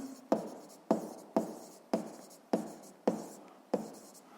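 Pen strokes on paper while working a 7th-grade physics exercise on pressure, a steady run of seven sharp scratchy marks about half a second apart, close and clear with no talking.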